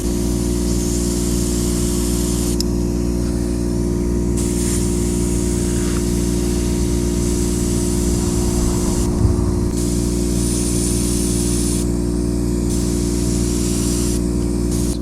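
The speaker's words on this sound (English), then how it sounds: "Never start your airbrush over your work, because it will throw out a little bit of splatter at times" An airbrush sprays paint onto a homemade Ford GT40 slot car body, giving a continuous close hiss that cuts in and out in short bursts over a steady low compressor hum.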